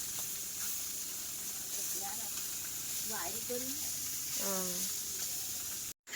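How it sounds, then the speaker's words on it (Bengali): River khoira fish frying in oil in a pan on an outdoor clay stove, giving a steady close hiss and sizzle that runs throughout, while someone talks over it. "ওই যে মা ওদিকে মাছ ভাজছে"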